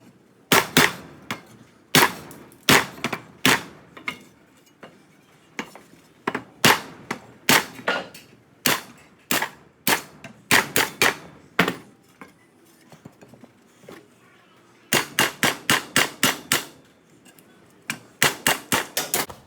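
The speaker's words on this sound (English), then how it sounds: "I'm going to use this piece of timber on the back of the bracket to get a nice straight edge when I fold" A metal bracket clamped in a vise with a piece of timber behind it is folded by hammering, giving sharp, loud strikes in irregular runs and clusters with brief pauses and no talking.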